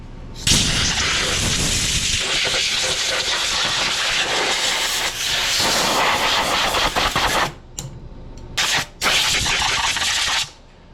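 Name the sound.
blowing off riding mower engine with air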